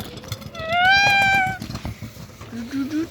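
A cat gives one drawn-out meow outdoors, rising then falling, with a shorter whiny call near the end and other low noises around it.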